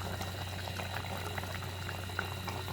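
Chicken sotanghon soup with potatoes boils in a pot, giving a steady close bubbling and gurgling with a constant low hum beneath.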